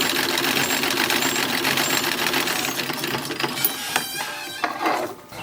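A sewing machine runs through a garment seam while making a 1920s summer party dress, a steady mechanical whir that thins into sparse clicks and taps toward the end.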